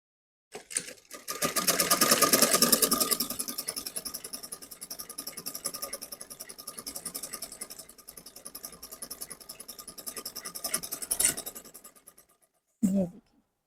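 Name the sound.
sewing machine stitching straight seams in fabric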